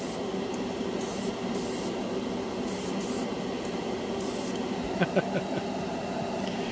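An airbrush sprays clear tint paint over chrome on a scale model, a continuous soft hiss turned low, with short bursts of brighter spray and a few small clicks near the end.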